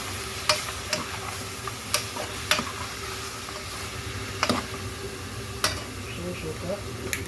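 Lamb adobo sizzling gently in a pan while being stirred, a steady hiss punctuated by several sharp clicks and scrapes of a utensil against the pan.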